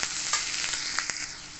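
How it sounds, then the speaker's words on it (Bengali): Chopped onion fries in hot oil with cumin, a continuous close sizzle with a few sharp clicks of the stirring spoon against the pan. "পেঁয়াজটাকে ভেজে নেব।"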